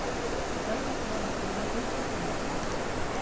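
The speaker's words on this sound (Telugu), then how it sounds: "ఇక్కడ అంతా వాటర్ ఫ్లో పోతుంది" Stream water flowing through a scenic valley viewpoint at Maredumili, heard as an even, unbroken rush of moderate loudness with nothing else standing out.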